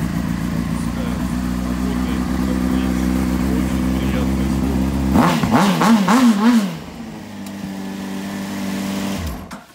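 A Honda CBR600RR motorcycle with 43,400 on the odometer idles steadily, then takes a few sharp throttle blips that rise and fall before settling back to idle and cutting off; loud and close, no talk.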